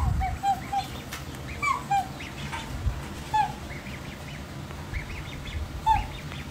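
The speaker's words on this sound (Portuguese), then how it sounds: "Olha aqui, ó, os filhotinhos de marreco, ó." Several small ducklings at a country property give soft, high peeping calls, spaced irregularly and heard from a moderate distance over a low outdoor rumble.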